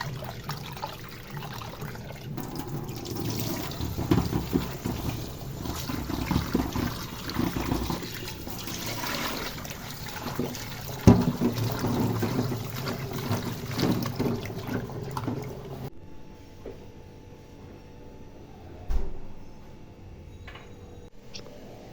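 Chopped pointed gourd and jackfruit seeds being washed in water: steady sloshing and trickling for about sixteen seconds, then a quieter stretch with one brief splash near the end. No one speaks.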